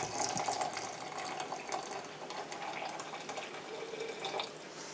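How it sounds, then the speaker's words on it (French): Water pours steadily into teapots while Moroccan mint tea is prepared, a continuous splashing, trickling stream close by with no talk over it. "Alors, on a versé l'eau."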